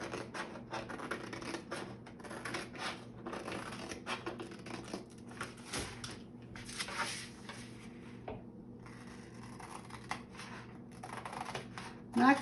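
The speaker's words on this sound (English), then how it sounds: "So I'm going to start by cutting the pieces apart. Just going to cut on the lines." Scissors cut paper pieces apart along printed lines in a series of soft, close snips and rustles, with background noise and a few quiet handling sounds.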